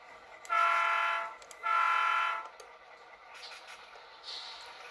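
A model railroad locomotive gives two sustained horn toots on layout tracks, each about a second long, followed by fainter short tones, heard close and without talk.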